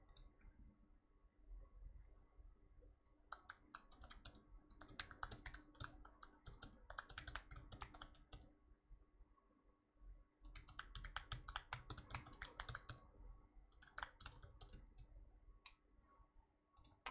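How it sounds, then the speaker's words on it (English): Computer keyboard typing in two long bursts of rapid, close clicking keystrokes, with short pauses and scattered isolated key taps between them, no talking. "I was just typing one of the questions that students had."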